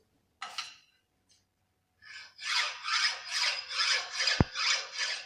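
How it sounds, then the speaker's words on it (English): Hand file worked across a metal workpiece in a fitting shop: after a couple of isolated scrapes, a run of about seven regular rasping strokes, close and crisp, with one sharp knock mid-sequence. "this is the proper way to file the job"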